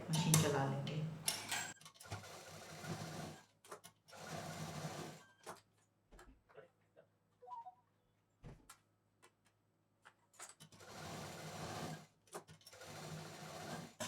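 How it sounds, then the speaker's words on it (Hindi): A sewing machine stitches two layers of cloth for a traditional potali bag in several separate runs, each a dense whirring rattle broken by quiet gaps with small clicks and handling noises, close and clear. "क्योंकि हमारे नीचे 2 परत हैं तो यहाँ से यहाँ हम पहले मशीन चला लेंगे"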